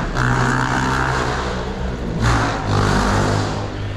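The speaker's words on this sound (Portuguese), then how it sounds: "Essas motos barulhentas são muito chatas, cara." Noisy motorcycles pass along a street in the Rasa neighborhood of Búzios, Brazil, their loud engines droning close by, with a second rising rev surging past midway.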